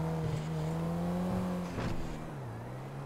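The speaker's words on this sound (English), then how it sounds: "It's a smart car." A smart car engine in a video game hums steadily at a low pitch, shifting slightly as it drives, with a brief whooshing burst midway.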